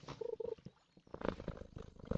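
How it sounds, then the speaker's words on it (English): A pet cat purrs close up, a soft rhythmic rumbling that pulses with each breath, quiet and intimate with a brief pause midway before resuming. "Oh, you might have heard a little bit of purr."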